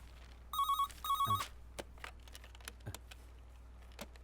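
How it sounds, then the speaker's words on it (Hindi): A telephone rings with two short bursts of bright electronic trilling, close and clear, followed by a few faint clicks and taps in a quiet room. "सर फोन बज रहा है।"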